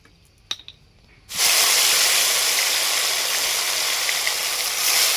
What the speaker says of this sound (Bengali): এবারে আমি মাছগুলো ভেজে নেব সেই জন্য কড়া বসিয়ে দিয়েছি